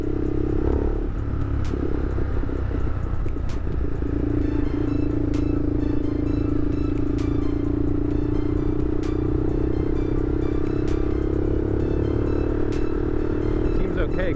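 A Honda Superhawk 996 (VTR1000F) V-twin motorcycle is ridden with a steady loud engine drone and wind rumble that rises gradually, with a rider talking over it throughout.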